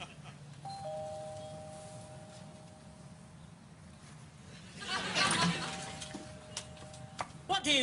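A two-tone doorbell chime rings out, sustained tones ringing twice with a pause between, followed by voices and movement near the door.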